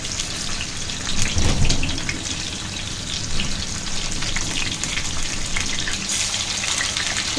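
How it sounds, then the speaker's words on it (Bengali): Chicken pieces for korma drop into hot oil and fry with a steady, close crackling sizzle and no talking. "তো আমি তেলটা গরম হয়ে গেছে, মাংসটা দিয়ে দিচ্ছি।"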